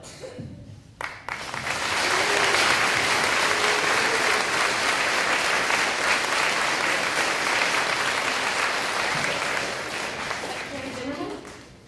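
An audience in a school assembly claps for the governor's proclamation, a dense, sustained round of applause lasting about ten seconds before it fades.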